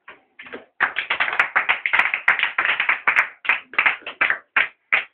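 A church congregation claps in fast, rhythmic unison, close and loud, with sharp repeated hand claps running steadily for several seconds and no talking over them.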